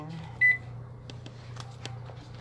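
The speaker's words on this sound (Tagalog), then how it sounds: "I-microwave mo na lang." A microwave oven hums steadily with a low drone, giving one short bright beep near the start, plus a few faint clicks and household clatter in the background.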